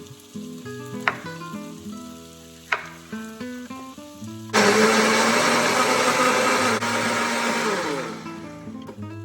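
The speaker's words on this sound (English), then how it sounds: "So I'm gonna just quarter these and puree them in a blender." Quartered tomatoes pureed in a blender: a few short clicks and knocks, then the motor roars loud and steady for several seconds, close by with no talk.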